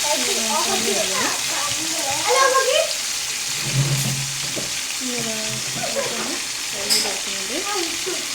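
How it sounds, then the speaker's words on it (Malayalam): Food frying in well-heated oil in a pan, a steady loud sizzle with stirring clatter throughout, while a person talks over it. "ഫുള്ളൊന്ന് ഫ്രൈ ചെയ്തെടുക്കണം കേട്ടോ"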